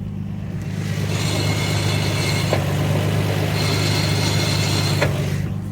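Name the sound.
Nismo twin disc clutch engaging on 1991 Nissan Skyline GT-R32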